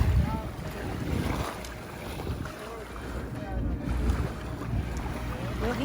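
Gusty wind buffets the microphone in a steady low roar, with faint water sloshing beneath it outdoors during stand-up paddleboarding.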